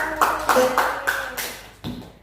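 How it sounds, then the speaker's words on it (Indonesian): Schoolchildren in an elementary classroom clap for a classmate, a short burst of roughly rhythmic, fairly close hand claps that fades, then one final clap near the end. "Beri tepuk tangan dulu."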